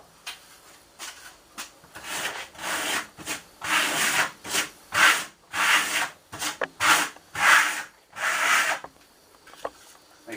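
Steel trowel pulled in short S-shaped strokes across Primo Classic Marmorino lime plaster on a wall, giving repeated close scraping rubs in irregular bursts with brief pauses between them.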